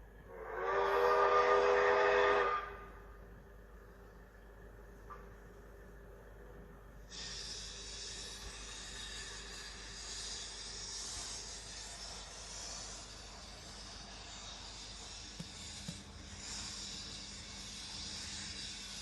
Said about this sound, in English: That's the sound of a Japanese locomotive.